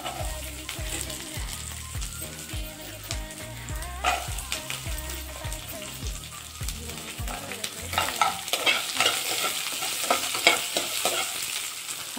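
Chopped onions fry in a pan, a busy sizzle broken by repeated stirring scrapes and clinks. Music plays over the first half.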